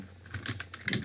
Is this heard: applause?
no